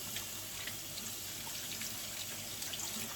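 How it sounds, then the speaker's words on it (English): Mussels being rinsed and scrubbed under a running kitchen tap, a steady soft hiss of flowing water throughout, quiet and even, with no talking. "I just want to go through and rinse them off. Use my little scrubber thing here, make sure they're cleaned."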